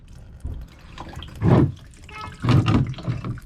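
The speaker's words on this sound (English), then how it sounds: "this is basically just a drain from the radiator, and it's got like a thumb screw on the side, and then just drains out of this hole" Distilled-water coolant drains from the thumb-screw petcock of a Toyota Soarer radiator with a 1JZ engine, running and splashing in a few louder bursts over a soft trickle, close by with no voices.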